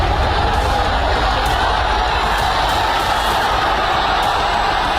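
Dense, steady roar of a huge crowd packed into a political rally for Modi in West Bengal, continuous and loud throughout, with faint cheering lifting here and there.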